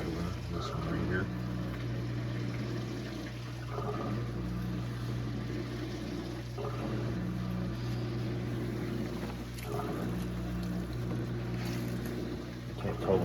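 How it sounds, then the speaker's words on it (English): A Kuppet portable washing machine drains water into a floor drain, giving a constant low motor hum with a watery rush and gurgle, and a voice speaks now and then over the top. "It drains into this floor drain by over here by the way."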